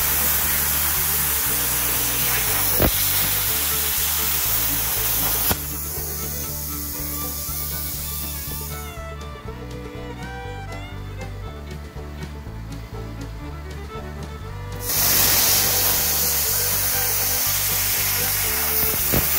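A BestArc BTC500DP plasma cutter slices through metal about an eighth inch thick with a loud, steady, rough hiss that shifts in tone partway through the cut.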